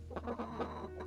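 Year-old Orloff chintz hens cluck softly in a few short, uneven bursts against a steady low hum, with no talk.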